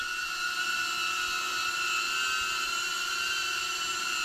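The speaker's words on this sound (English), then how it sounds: "you can literally control the drone" A tiny drone flies nearby with a constant high-pitched whine and whir from its small propellers, steady and unbroken with no talking.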